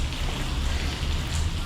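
Steady rain hisses as a broad, even wash of noise, close and moderately loud, with no voices over it.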